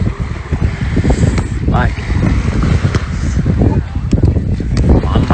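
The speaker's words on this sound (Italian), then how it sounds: "Troppo vento, troppo mare." Strong wind roars and gusts across the microphone beside a rough sea on Ibiza, loud and constant throughout, while people talk over it.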